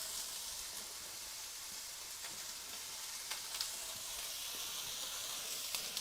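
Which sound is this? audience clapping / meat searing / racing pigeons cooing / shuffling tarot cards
meat searing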